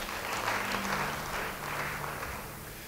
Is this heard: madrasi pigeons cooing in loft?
no